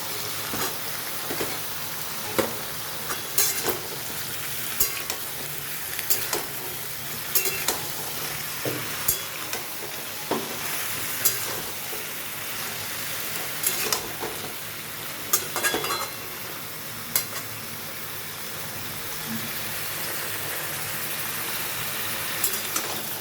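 Eggplant pieces sizzle steadily in hot oil in a pan, with a constant frying hiss broken by repeated sharp clinks and scrapes of a utensil stirring against the metal.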